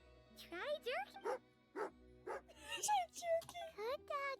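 A cartoonish video-game dog in Genshin Impact's Snezhnaya gives a run of short, bouncy barks and yips, close and clear, with brief pauses between them.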